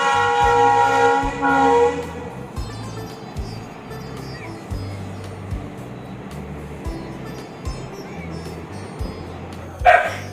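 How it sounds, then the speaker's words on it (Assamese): A train passes near a house with a steady rumbling clatter of rail cars, while a dog barks loudly at the start and again near the end. "এতিয়া ট্ৰেইনৰ শব্দ শুনিছোঁ"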